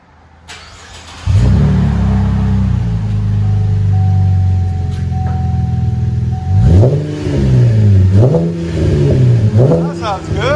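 A Cadillac CTS4 3.6-liter V6 with its exhaust cut off and replaced by an aftermarket setup starts up and idles loudly, then revs in several rising and falling pulls close by.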